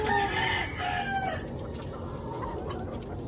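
White Kelso stag roosters crow close by, one strained crow at the start, followed by clucking and softer bird calls over a quiet yard background.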